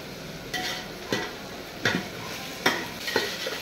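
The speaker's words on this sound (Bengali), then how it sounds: "এবার আদা রসুন সহ আর একটু আমি ফ্রাই করে নেব।" Ginger garlic paste fries in ghee for chicken pulao, a continuous sizzle punctuated by about five evenly spaced scrapes of a spoon stirring across the pan; close and clear with no voices.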